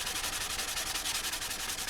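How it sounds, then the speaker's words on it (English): A Yamaha FZ600 motorcycle body panel is sanded by hand with a sanding block, making steady close rhythmic rubbing strokes that rasp back and forth without pause and with no talking. "just the slightest little cosmetic hit with a sanding block"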